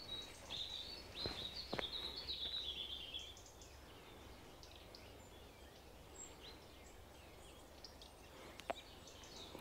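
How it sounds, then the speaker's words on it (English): Birds chirp and call in a quiet woodland in Buskett Woodlands, Malta, with a burst of high twittering early on and scattered sharp calls over faint background ambience. "I never heard so many birds at the same time"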